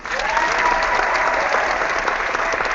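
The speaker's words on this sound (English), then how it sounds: "So I'd like to give everybody a round of applause for Mike for coming up with this genius idea" A crowd applauds steadily and loudly, dense clapping filling the whole stretch without pause.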